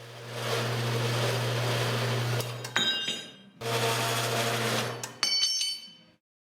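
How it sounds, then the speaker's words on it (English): A Taiwanese bandsaw cutting metal for a Jeep XJ Cherokee rear bumper, a steady low motor hum with blade whine in two long passes, each ending in metallic clinks and rattles, close and fairly loud. "The Taiwanese special bandsaw is certainly not the fastest, but she does leave a clean cut with very minimal mess."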